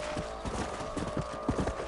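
Horse hooves clip-clop in a steady gallop rhythm in the Red Dead Redemption video game, close and fairly loud over a low background bed.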